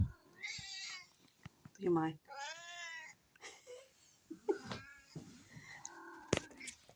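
A house cat meows several times in a long, drawn-out, wavering way, close and fairly loud, while a person speaks briefly between the calls in a quiet indoor room.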